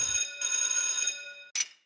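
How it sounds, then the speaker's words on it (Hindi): Classic telephone bell rings in a long metallic trill, pauses briefly, then gives a short second burst, loud and close with nothing else around it. "फोन की घंटी बज रही है"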